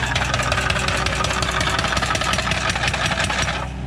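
A skid steer engine runs steadily at close range, a loud, continuous mid-pitched drone with a rhythmic knocking pulse that eases slightly at the end, with no talk over it.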